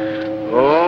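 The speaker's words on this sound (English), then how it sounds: "That wasn't an echo. It was a foghorn." A foghorn blows a single deep, sustained, loud honk that swells slightly toward its end, heard alone in an old film scene.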